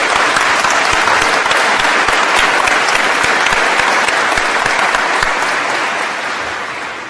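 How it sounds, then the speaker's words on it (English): At a 2023 College of Engineering commencement ceremony, a large audience applauds loudly and steadily for the campus staff, a thick roar of clapping that tapers off over the last second or so. "Please join me in a round of applause for the people who help us look great"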